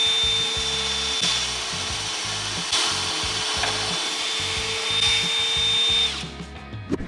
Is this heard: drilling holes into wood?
yes